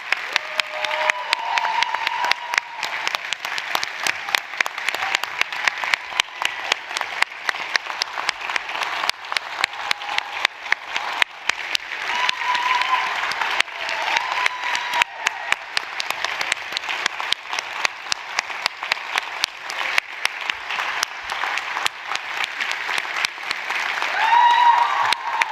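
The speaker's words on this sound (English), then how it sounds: "Let's give them a round of applause as you see them come across the screen" A standing ovation for 54 nominees at the 2025 Celebration of Excellence in Education event: a large crowd claps continuously and evenly for the full length, with faint scattered cheers in the mix.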